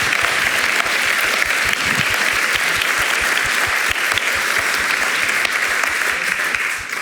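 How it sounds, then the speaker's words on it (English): Loud, sustained applause from a festival audience after a talk, dense clapping that continues steadily for several seconds without speech. "Give them a round of applause."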